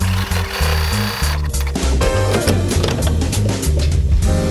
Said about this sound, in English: we're just gonna stitch around, top stitch in our hems, and we're done.